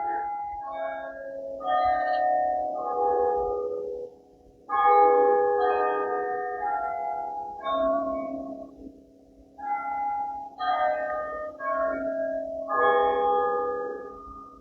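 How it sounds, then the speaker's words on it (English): Church bells near Coventry Cathedral and the ruins of St Michael's peal continuously in overlapping, tumbling sequences, ringing out clearly and steadily with short gaps between rounds. "And right on cue, there goes the bells."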